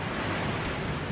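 Ocean waves washing onto a private beach at San Pancho, Mexico, heard as a steady, moderately faint surf roar with wind and no talking.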